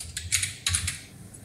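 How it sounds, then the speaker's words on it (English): Someone types on a computer keyboard, two quick bursts of key clicks close by with a short pause between them and no talking. "just type in your keyboard Reliance"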